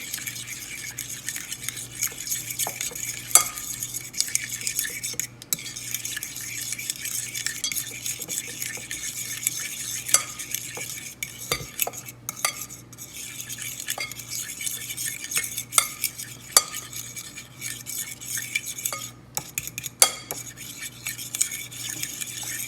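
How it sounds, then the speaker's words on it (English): A whisk beats a dressing of vinegar and pink salt in a bowl, with quick repeated clinks and scrapes against the sides over a soft steady hiss, close up and without speech. "Then we're gonna whisk this all together."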